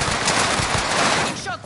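Rapid automatic gunfire in a shooter video game, a loud continuous burst of shots with a voice underneath, easing off just at the end.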